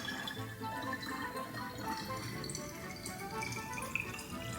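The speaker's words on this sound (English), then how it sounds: "So I just kind of pour water in here." Water poured from a fridge-cold supply into a container, a steady liquid trickle and splash running continuously at close range with no voices.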